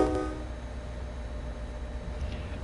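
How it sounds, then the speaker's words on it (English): Low rumble of a commuter train in Train Sim World 2 on the Boston Sprinter route, with a brief sustained horn tone at the start that fades into steady engine and rail noise. "I think these trains are forever blowing the horn and leaving the bell on."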